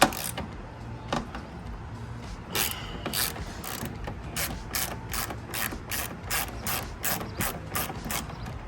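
Ratchet with a 10 mm socket loosening the headlight bolts on a Genesis Coupe: a steady series of sharp, close clicking pawl bursts, repeated in an even rhythm, with no talk.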